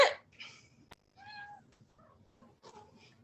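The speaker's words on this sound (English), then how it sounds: "her cat just meowed so perfectly as the punctuation to that intro" A house cat meows once in the background, a short, clear, moderately faint cry amid quiet room sound, with no talking.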